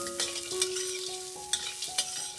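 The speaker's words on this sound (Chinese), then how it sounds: "翻炒均匀。" Vegetarian mapo ramen ingredients stir-fried in a pan, a steady sizzle with a spatula scraping and clacking against the metal several times, close and alone.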